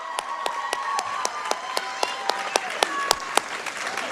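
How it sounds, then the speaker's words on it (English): An audience applauds steadily at a high school sports awards ceremony, with dense clapping and sharper individual claps standing out throughout. "Round of applause."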